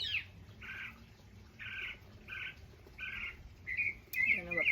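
Outdoor birdsong from an unidentified bird: a string of short, evenly spaced high chirps, fairly faint and distant, followed by a sharper call as a voice begins at the end.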